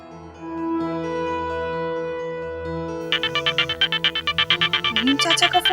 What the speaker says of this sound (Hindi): फहीम चाचा का फोन।